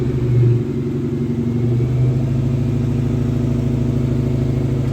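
A powerful Saleen V8 car engine on a dyno holds a loud, steady, deep rumble, rising slightly in pitch near the start, heard close up from the back.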